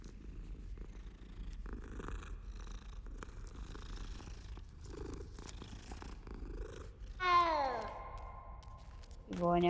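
A cat in the Hogwarts Legacy video game purrs in a low, continuous rumble while being petted, followed near the end by a couple of short, bright meows.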